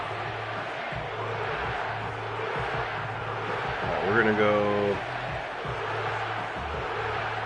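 A stadium crowd in the Madden 25 football video game roars as a steady, broad wash of cheering, with someone talking over it throughout.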